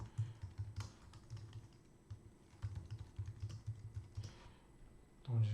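Soft, quiet keystrokes on a computer keyboard in irregular short runs, close but low in level, with faint background noise.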